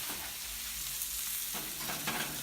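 Steaks sear in a hot pan with a loud, steady sizzle and crackle, a continuous fizzing hiss with small popping bursts and no voices.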